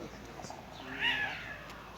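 A cat near its food lets out a single drawn-out, faint meow rising and falling in pitch, heard alone over low background noise.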